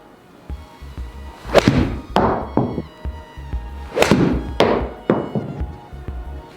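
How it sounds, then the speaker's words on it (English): A Mizuno MP20 HMB 8-iron strikes golf balls, each hit a sharp, loud impact followed by a short ringing decay, several strikes in quick succession with low thuds between them. "So we're now hitting the 8-iron"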